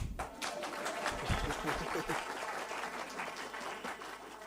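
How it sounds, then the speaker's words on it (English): Audience applause at a book launch, a steady wash of clapping from a crowd that holds for several seconds at moderate level, with a voice briefly audible through it. "Clap hands for me."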